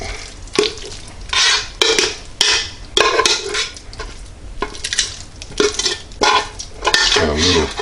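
Three-cheese macaroni and cheese being stirred in an organic pot: repeated scraping and clanking of a spoon against the pan in uneven bursts, close and fairly loud, with no voices.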